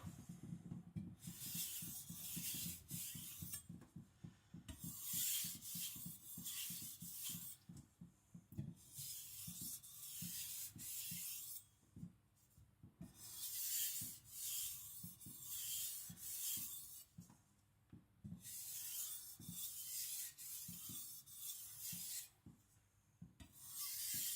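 A Tojiro white steel shirogami nakiri is thinned on a whetstone: close, rhythmic rasping strokes come in about five bursts separated by short quiet pauses, with no talking.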